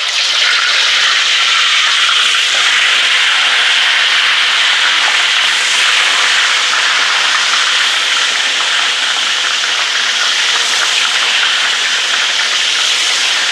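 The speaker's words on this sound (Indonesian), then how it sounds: "Kita goreng dulu ayamnya ya." Loud, continuous sizzling hiss of chicken frying in hot oil, steady and close, with no talking.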